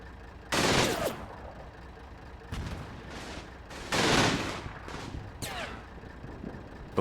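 Gunfire in the Combat Mission video game as a sniper duels an American sniper in the woods, with several loud, separated shots and bursts echoing out over a steady low rumble.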